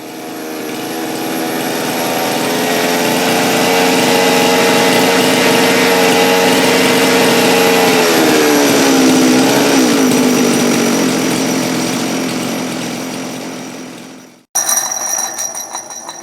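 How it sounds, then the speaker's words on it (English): Hyway 372 chainsaw fitted with a 52mm popup kit, its throttle cable faulty, running loud and close as a sustained high whine that bogs and shifts pitch before cutting out abruptly, then restarting briefly. "I'm not seeing that this saw really has a big problem other than the throttle cable"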